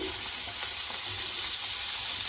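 Carrots and yardlong beans fry in a pan with a steady, close sizzle and faint scraping stirs, continuous and even, with no voices.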